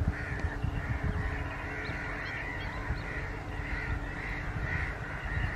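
A crow caws repeatedly in the open during a goshawk hunt, harsh calls rising over steady outdoor wind and rustle at moderate distance.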